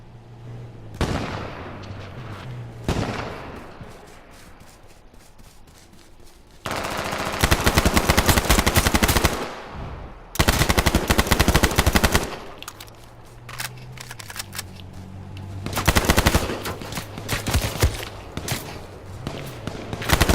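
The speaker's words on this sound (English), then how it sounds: "Oh shit, we're in a firefight, boys." Rapid video game gunfire in a firefight, with sustained automatic bursts and scattered single shots coming loud and close in several dense stretches, separated by quieter gaps filled with footsteps and background game noise.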